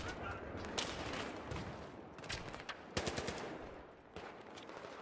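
Battlefield 3 gunfire crackles in rapid automatic bursts, with several sharp, loud shots standing out against a busy combat backdrop.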